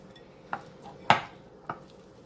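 Powdered sugar frosting being mixed in a bowl, heard as a few separate clinks and scrapes of a utensil against the bowl, with one louder knock in the middle over a quiet background.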